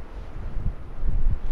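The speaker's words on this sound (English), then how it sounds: "just listening to the wind, just beautiful." Night wind moving through a wood on Dartmoor, a low soft rushing with gentle gusts and faint rustle, steady and fairly quiet with no voices.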